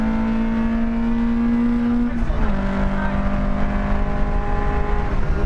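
A BMW hot hatch engine on a Nürburgring lap, a loud, strained drone at high revs that drops abruptly in pitch at a gear change midway, then climbs steadily again.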